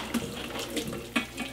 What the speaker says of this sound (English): I'm draining pasta for the second time of my life.